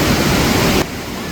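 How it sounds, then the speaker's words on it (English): Water rushes steadily in a nature park, a loud broad hiss like a stream or small fall, dropping suddenly in level partway through. "it's so beautiful how the water finds its own way."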